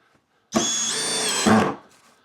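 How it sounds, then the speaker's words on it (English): A cheap brushless drill driver bores straight into a piece of scrap wood without a pilot hole, giving one loud, close, high-pitched motor whine that rises in pitch as it spins up and then stops after about a second. "I'm not drilling pilot holes here, by the way. I'm just going straight into this bit of scrap wood."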